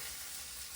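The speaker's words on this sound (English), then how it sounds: "we can lay in our pork, or whatever meat that you're using. You just wanna sear that on both sides." Pork sears in a hot pan with a steady, bright sizzle that holds evenly through a short moment, with no voices.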